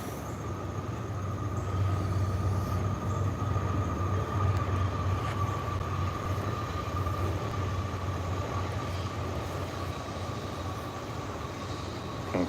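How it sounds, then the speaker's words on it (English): A train passes steadily on a rural property near a tomato garden, a loud continuous rumble with a sustained horn-like tone holding throughout, close by and with no talking. "here comes the damn train."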